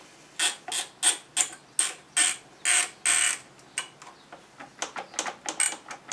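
Ratcheting clicks from a clutch cable adjuster being screwed in on a Triumph Bonneville fitted with a billet clutch cable bracket, a run of about a dozen close, sharp bursts, spaced evenly at first and then coming quicker and lighter.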